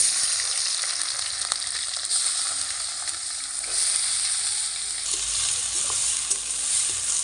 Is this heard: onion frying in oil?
yes